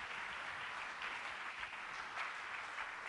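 A church congregation applauds steadily, a dense, continuous wash of many hands clapping at once, fairly distant and even in level throughout.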